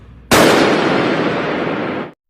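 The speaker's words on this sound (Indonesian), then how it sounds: "kelompok yang sebelumnya dilumpuhkan Akechi tiba-tiba berdiri dan melepaskan tembakan yang mengarah ke Hanasaki." A gunshot in an anime scene, a sudden loud blast that cuts in sharply and leaves a long, bright, hissing tail before stopping abruptly.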